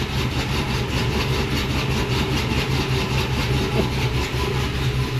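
A Chevrolet Tahoe fitted with a choppy camshaft idles steadily up close, a continuous low engine rumble with a faint lumpy pulse and no talking over it.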